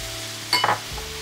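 Garlic drops into hot oil in a pan holding onion and pepper for a seafood fideuá with cuttlefish and prawns, setting off a brief, close burst of sizzling over a low background hum.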